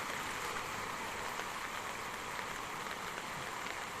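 Steady heavy rain falls on a flooded road where the water stands knee-deep, a continuous dense hiss of drops with no break or voices.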